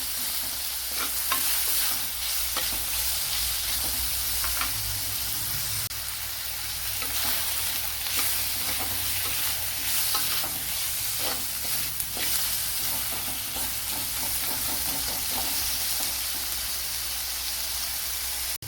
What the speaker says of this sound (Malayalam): ഇനി ഇതിലേക്ക് വലിയൊരു തക്കാളിപ്പഴം ചേർത്ത് കൊടുക്കുക.